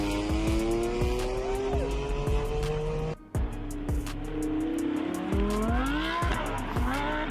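A BMW M car with an S55 engine revs hard and accelerates while its tires squeal in long rising and falling whines, over a loud engine roar with sharp pops and a brief drop in sound partway through.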